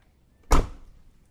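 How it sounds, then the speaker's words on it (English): A single solid thump as the door of a Peugeot 405 Mi16 is shut, heard up close in a quiet setting with nothing else around it. "Let's listen to the door."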